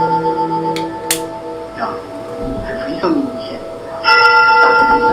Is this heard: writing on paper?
no